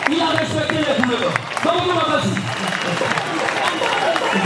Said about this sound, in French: Applaudissons très fort pour le futur marié